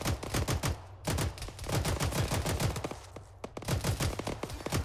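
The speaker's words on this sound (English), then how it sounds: "We're taking heavy fire." Heavy, sustained gunfire in an Arma 3 combat battle: rapid overlapping bursts of automatic weapons and single shots, loud and close, crackling continuously with brief lulls and no talk.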